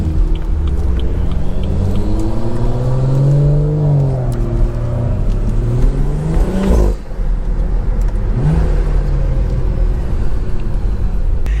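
A BMW with an N55 engine passes close by on a college campus, its loud engine rumbling and rising in pitch as it accelerates. The revs swell and dip over several seconds, with a brief drop partway through.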